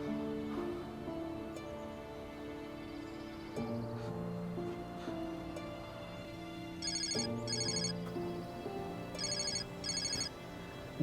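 A telephone rings repeatedly and goes unanswered, its electronic ring bursts standing out in pairs over a steady background of music with no voices present.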